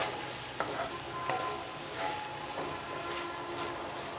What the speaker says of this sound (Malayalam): ഇതിലേക്ക് ഈ വെണ്ടയ്ക്ക ചേർത്ത് കൊടുക്കാം. നന്നായിട്ട് മിക്സ് ചെയ്യുക.